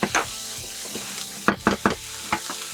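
Onions and garlic sautéing in a pan, a steady soft sizzle with several clacks of a spoon stirring against the pan.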